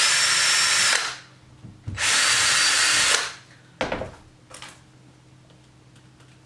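A power drill drills pilot holes close up in two sustained whirring bursts separated by a short pause, followed by a few sharp clicks and clatters.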